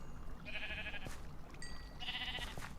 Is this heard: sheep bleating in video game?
yes